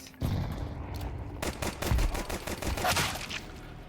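Rapid bursts of close, loud video-game gunfire landing headshots on kobolds, the shots tightly packed into a dense volley that starts midway and carries on to the end.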